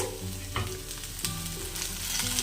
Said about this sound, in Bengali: আলুটা আমার মোটামুটি ভাজা হয়ে গেছে